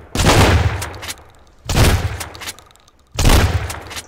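A video game shotgun fires three loud, booming blasts roughly one and a half seconds apart, each ringing out with a heavy low-end tail before the next.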